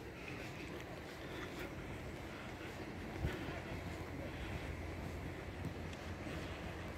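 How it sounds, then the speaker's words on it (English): Wind buffeting and low rumbling surf at a seaside resort in Matagorda in February, a steady broadband wash with a brief gust or thump near the middle, no talk. "There's the lovely sea"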